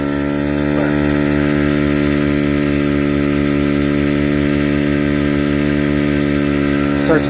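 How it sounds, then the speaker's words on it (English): An onboard air compressor for an automotive air tank runs with a steady loud mechanical hum, and its check valve rattles continuously at low pressure, close up, with a brief clatter near the end. "There's quite a bit of rattle that's produced by this check valve when it's low pressure."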